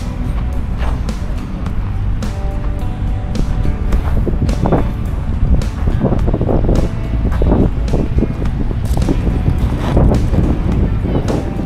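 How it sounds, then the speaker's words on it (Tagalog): Strong sea wind buffeting the microphone in a continuous roar, with people talking underneath and the rumble of a boat at sea on Manila Bay near Dolomite Beach at high tide. "Sarap ng hangin ngayon dito."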